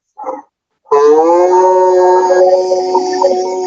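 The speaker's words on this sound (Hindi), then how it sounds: "मैं इसके बाद इसको जब ऑफ करता हूँ ना तो ओम की ध्वनि से ये बंद हो जाता है" After a brief short tone, a voice chants a long, steady "om", resonant and sustained, gently fading toward the end, as a digital Bhagavad Gita player shuts down.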